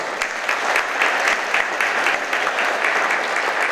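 An audience at a county police department annual service awards ceremony claps in sustained, dense applause for several seconds, loud and steady with no voices over it.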